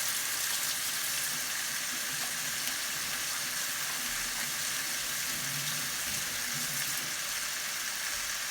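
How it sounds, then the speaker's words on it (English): Kitchen sink tap running steadily while hands are washed during gumbo prep, a quiet, even hiss of flowing water with faint splashing and no speech. "So I'll wash my hands again."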